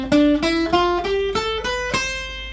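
Picked notes on a guitar in a beginner ascending exercise, played without legato: about seven clear, separately attacked notes climb steadily in pitch, each ringing briefly into the next, with no voices.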